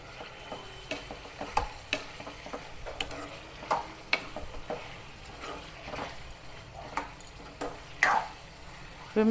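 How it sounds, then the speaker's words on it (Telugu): Marinated chicken pieces fry in a pan with a steady low sizzle, joined by repeated clinks and scrapes as a utensil stirs them at close range. "ముక్క తొందరగా ఫ్రై అవుతూ ఉంటుంది ఇది తొందరగా ఫ్రై అయిపోతుంది"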